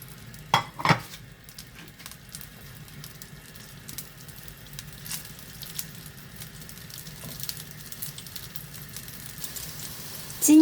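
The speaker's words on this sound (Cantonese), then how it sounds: "而家煎餃啦，" Pork and chive dumplings pan-frying in oil over high heat, a soft steady sizzle close by with a couple of sharper knocks early and a louder hiss rising at the end.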